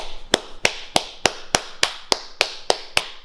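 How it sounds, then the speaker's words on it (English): Slow, deliberate hand clapping, about eleven sharp claps at an even, unhurried pace of roughly three per second, close and crisp with no talk. "Don't clap too quick cunt, slow."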